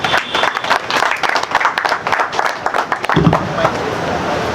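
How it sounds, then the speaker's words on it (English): A hall audience breaks into dense, even clapping at a World Tourism Day launch event, loud and sustained, then fading into softer scattered claps and murmur near the end. "Another round of applause,"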